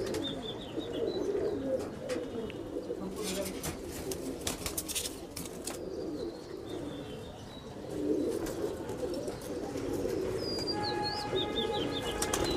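Golden Teddy mix pigeons, a Pakistani Teddy racing breed, coo in low rolling bursts while wings flap in quick clattering flurries, with other birds chirping faintly in the background.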